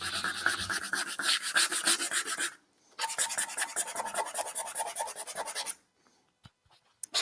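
Abrasive rubbing back and forth through an ivory lacquer finish on wood, a rapid rhythmic rasping in two sustained bursts separated by a short pause, close and fairly loud, with a few faint knocks at the end.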